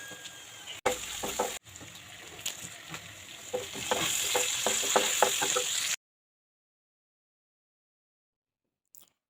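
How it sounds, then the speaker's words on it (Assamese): Meat frying in a pan as it cooks down for a gravy, a steady close sizzle broken by stirring clatter and knocks, cutting off abruptly into near silence with one faint tap near the end. "মিছা মাছখিনি হৈ যোৱাৰ পাছত মই এতিয়া মাংস ৰান্ধিবলৈ লৈছোঁ।"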